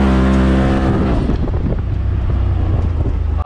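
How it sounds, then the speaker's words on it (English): A four-wheel drive vehicle at full throttle, a loud, close engine roar with a steady low drone and buffeting wind noise across the microphone, ending in an abrupt cut. "Oh yeah, full throttle, four-wheel drive."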